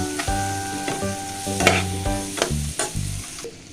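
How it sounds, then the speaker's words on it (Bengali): Tomato and masala fry in a pan over low heat while a spoon stirs, producing a close sizzle broken by repeated scraping strokes and knocks against the pan. "মশলাটা অ্যাড করার পরে আমি ভালোভাবে মিশিয়ে নেব"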